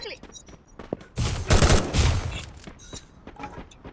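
In a shooter video game, a short, dense burst of rapid gunfire erupts after scattered quieter game sounds, lasting about a second before fading back to softer clicks and effects.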